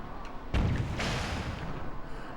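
Cannon fire in The Legend of Zelda: The Wind Waker video game, aboard a sailing boat attacking warships: one sharp booming shot followed by a second rumbling blast, loud and close, with no talking.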